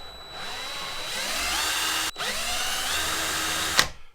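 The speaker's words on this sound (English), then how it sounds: "Looks like we're gonna have to drill one more time." A power drill bores a hole while a Gerbing dual heat controller is installed on a Harley-Davidson Road Glide. The close, loud, steady whine runs for about two seconds, cuts out briefly, then whirs again before stopping.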